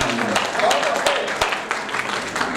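Scattered audience applause with sharp individual claps, moderately loud, mixed with crowd noise and some talking in Hindi, at a Holi comic poetry gathering.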